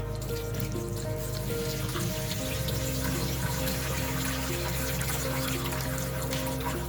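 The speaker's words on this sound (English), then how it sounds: "After a while, you can drain water by using that." Water runs and drains steadily alongside a low constant hum, with the pitch of the flow shifting slightly partway through.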